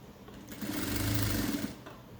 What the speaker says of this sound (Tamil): தைச்சு முடிக்கிறோம்.